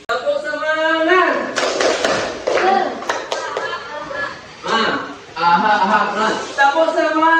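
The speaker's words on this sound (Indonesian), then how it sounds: "Tuh, tepuk semangat." Rhythmic group clapping by secondary school students in a classroom, sharp claps in patterned bursts mixed with a teacher and students chanting loudly over them.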